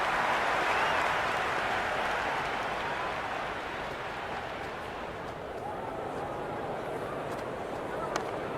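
A steady, dense crowd roar fills a cricket stadium during an India versus South Africa one-day match in the video game Cricket 26, loud and continuous and slowly easing in level.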